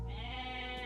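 A single short goat bleat comes from a real-time strategy video game, heard clearly and alone against quiet background.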